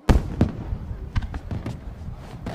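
Several fireworks in an anime pop and crackle in quick succession, sharp bursts with some sounding farther off, over a low background murmur.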